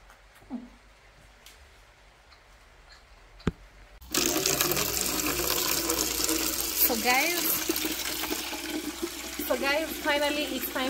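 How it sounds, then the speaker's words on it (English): Water gushes steadily into a bucket for an outdoor shower in the Jamaican countryside near Mandeville. A quiet start gives way to a loud, close, continuous rush with some tonal sounds over it. "I'm just waiting for my bucket to be full of water"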